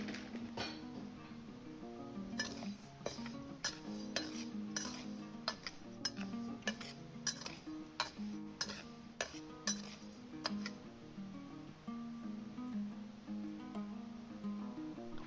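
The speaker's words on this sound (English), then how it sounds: "Stir fry until the white rice turn brown." White rice is stir-fried in a pan over medium heat, a spatula scraping and clinking against the metal in steady, rhythmic strokes, close and moderately quiet throughout.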